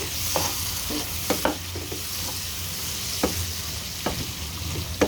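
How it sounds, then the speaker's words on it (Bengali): Shrimp are stir-fried with Malabar spinach in a hot pan, giving a steady loud sizzle throughout, broken by occasional scraping stirs of the spatula against the pan. "চিংড়ি মাছটা দিয়ে ভালো করে আবার কষিয়ে নেব"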